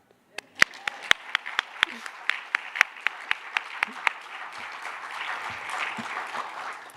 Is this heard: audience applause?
yes